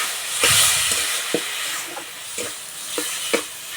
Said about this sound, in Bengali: মশলাটা যাতে পুড়ে না যায় তার জন্য অল্প একটু জল দেব।